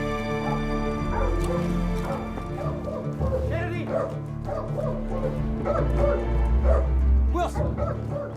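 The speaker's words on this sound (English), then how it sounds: "He's barking like crazy." Wilson the dog barks and whimpers in short, excited yips, close and insistent, repeating through the scene with steady background noise underneath.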